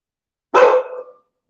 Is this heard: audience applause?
no